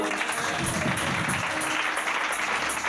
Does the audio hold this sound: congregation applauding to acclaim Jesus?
yes